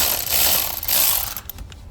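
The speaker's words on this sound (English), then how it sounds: "all you need is just to wiggle it a little bit more, and the starter motor should actually" Metal scrapes and clanks as a starter motor is wiggled loose from a 2006 Honda Accord 3.0L engine. It is a short burst of close mechanical rattling that ends in a few small knocks.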